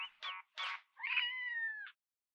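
An anime stray cat meows in three short, close calls, then gives one long drawn-out meow and starts a final cry, all loud and clear with no talking.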